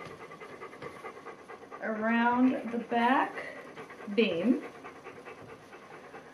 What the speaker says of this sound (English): I will apologize right now for the dogs panting.